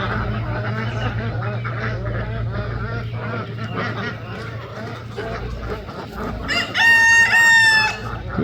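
Chickens and ducks out on grass pasture, a broad busy chorus of clucking and quacking, with a rooster's loud crow near the end and a person talking over the birds.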